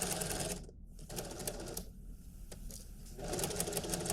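A sewing machine stitches a waistcoat seam with a steady, fast needle chatter, briefly dipping and pausing partway through before running again, close up and fairly quiet.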